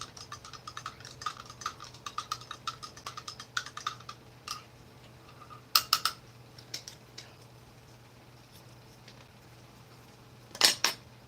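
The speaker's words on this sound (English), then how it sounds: "I'm just giving my tropical punch another stir." A spoon clinks and scrapes inside a cup of tropical punch, a quick run of light metallic ticks followed by a few sharper isolated clinks in a quiet room.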